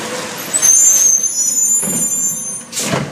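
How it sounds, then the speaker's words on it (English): A garbage truck collects trash at a house, its air brakes hissing in sharp bursts over a steady engine rumble, loud and close. "He loves garbage trucks."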